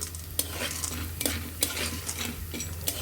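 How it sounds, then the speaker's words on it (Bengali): Popcorn kernels fry in a hot pan with a steady sizzle, broken by several sharp pops and stirring clatters spaced irregularly across the few seconds; no voices. "ভাজার আগ পর্যন্ত এভাবে পপনগুলো ফুটে উঠছে"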